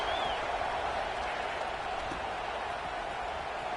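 Stadium crowd at a football game keeps up a steady, dense roar of buzzing and cheering after a score, loud and continuous throughout with no clear break.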